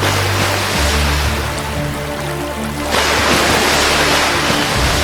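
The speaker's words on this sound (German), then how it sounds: "Das Wasser spritzt in die Höhe." A herd of animals plunges into the Amazon river, a loud continuous rush of churning, splashing water with a fresh surge of spray about three seconds in.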